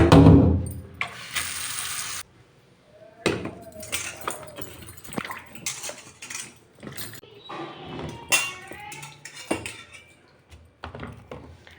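Tomatoes and potatoes being washed in water in a home kitchen, with running tap water at first, then splashing, rubbing and clinking of vegetables in a bowl, fairly close.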